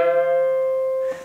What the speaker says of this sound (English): I do this kind of real twangy bend where I'm actually bending both of those strings.